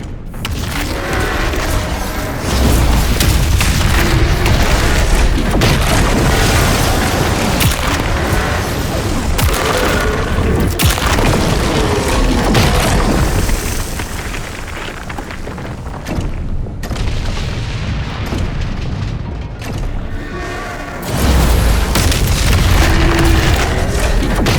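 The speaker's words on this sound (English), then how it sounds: "The core explodes, the city goes with it." A core and a city blowing up in DOOM: The Dark Ages: loud booming explosions and rumbling blasts roll on almost continuously, with a brief dip and then a fresh heavy surge near the end.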